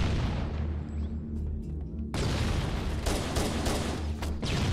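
Video game gunfire, booming shots and rattling bursts over a continuous loud battle din, with a short thinner stretch before dense firing returns.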